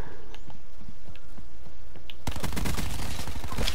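Video game gunfire bursts in as rapid, loud automatic shots for the last second and a half, following a stretch of quieter scattered clicks and thuds.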